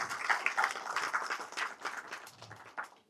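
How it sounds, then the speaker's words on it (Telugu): Audience clapping at a Telugu movie teaser launch event, a dense burst of many hands that fades slightly toward the end. "గట్టిగా ఒకసారి క్లాప్స్ అండి."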